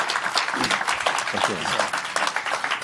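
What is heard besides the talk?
audience applause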